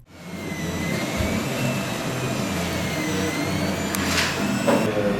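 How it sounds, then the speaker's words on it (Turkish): Several 3D printers make plastic face shields in a workshop, a steady loud mechanical whir with shifting motor whines and a few brief clicks near the end. "3 boyutlu yazıcılar maske üretimine başladı"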